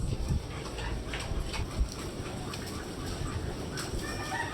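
A mother hen clucks in a noisy farmyard, with soft, irregular clucks mixed into a steady outdoor background. One brief louder burst sounds partway through, and no one speaks.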